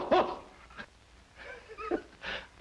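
A man imitates a dog, letting out a few short, loud barks and yips with brief gaps between them, close to the listener in an old 1940s comedy scene.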